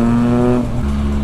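A 2020 Triumph Speed Triple RS motorcycle engine idles loud and close through its aftermarket-style exhaust, a steady throbbing drone that dips slightly in pitch partway through.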